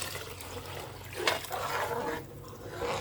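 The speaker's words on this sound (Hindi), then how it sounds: "अब मैं इसमें पानी ऐड करूँगी।" Water poured into a pot of black chickpeas being cooked for a spiced curry, a close, steady splashing pour with gurgling swells that continues for the whole stretch with no talk over it.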